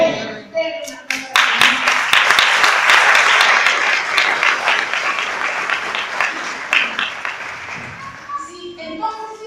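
A church congregation breaks into loud, dense applause close by, sustained for several seconds before tapering off, with voices speaking briefly at the start and end.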